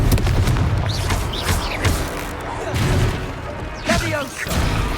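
A Confringo fire spell blasts during combat in the Hogwarts Legacy video game, giving booming whooshes and crackling impacts amid a busy mix of other spell effects and shouted voices.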